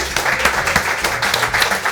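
A crowd applauding steadily, dense crackling claps lasting throughout, fairly close and loud with no break.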